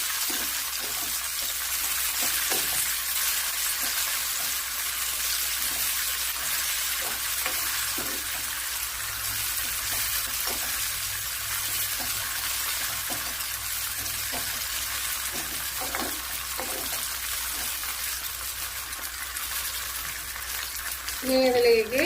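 Curry leaves sizzle in hot oil for a mango pulisheri tempering, a steady loud frying hiss holding throughout with a few spoon stirs, while someone speaks over it.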